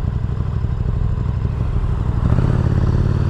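A 1999 Suzuki Hayabusa on a shakedown ride, its engine a loud, steady low rumble with wind and road roar, rising slightly toward the end, recorded up close on the move with no speech.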